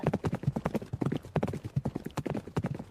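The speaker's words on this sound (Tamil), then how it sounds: "நான்கு குதிரை குதிரைகள் பூட்டிய தேர விரைந்து செலுத்த முயற்சி பண்ணா" Hooves of a four-horse chariot clip-clopping in a rapid, uneven rhythm of close, distinct strikes, with no speech over them.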